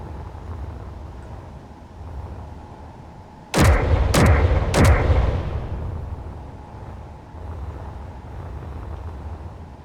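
Automatic gun turrets in Space Engineers fire three loud, booming shots about half a second apart, each with a sharp crack and a rumbling tail that fades over a few seconds above a low ambient hum.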